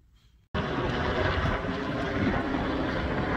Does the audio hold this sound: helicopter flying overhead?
yes